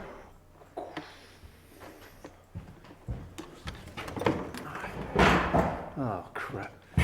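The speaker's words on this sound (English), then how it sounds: "That was my foot on the door." A foot knocks against a door in a Victorian séance room of a museum, producing a few dull thumps and knocks amid shuffling movement, with the loudest bumps coming midway and near the end.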